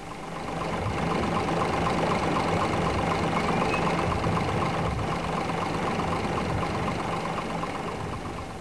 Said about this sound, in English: an eastbound diesel multiple unit pauses at Cockermouth Station